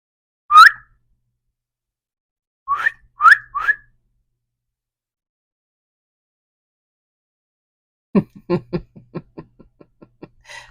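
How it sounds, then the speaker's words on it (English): A person whistles in a few short, sharp chirps, one alone and then a quick trio, in near silence, followed later by a burst of faint clicks and taps. "And he whistles."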